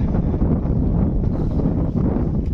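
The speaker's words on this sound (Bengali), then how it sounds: "প্রচণ্ড বাতাস আর ঢেউ শুরু হয়ে গেছে" Strong wind on the Dhaleshwari river during a fishing outing, a loud, continuous rumbling gust buffeting the microphone from start to end, with no distinct waves standing out.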